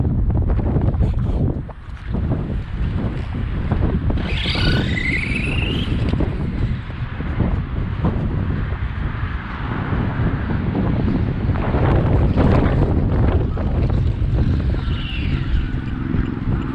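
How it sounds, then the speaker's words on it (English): Strong outdoor wind buffeting the microphone, a loud, constant low rumble with gusty surges throughout, plus faint high chirps in the background; no talking. "So y'all see it's windy."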